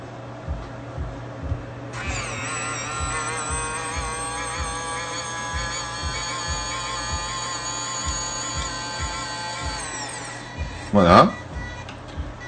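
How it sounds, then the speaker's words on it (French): An Arduino-controlled electric linear actuator on a robot chassis runs under test, giving a steady, fairly loud motor whine for about eight seconds before stopping, followed by a brief sweeping sound. "on a le vérin électrique ici qui sera piloté par une petite carte Arduino"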